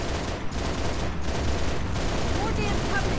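Rapid automatic gunfire in a Halo Reach battle against the Covenant, a dense continuous rattle of shots under steady combat noise with a few brief high electronic tones.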